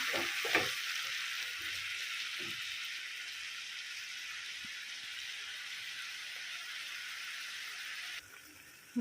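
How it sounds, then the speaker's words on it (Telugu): Onion paste frying in a pan for an egg curry, a steady dense sizzle that holds evenly throughout and dips briefly near the end, with light stirring clinks and no talk. "ఉల్లిపాయ పేస్ట్ కూడా వేసేసుకుందాం."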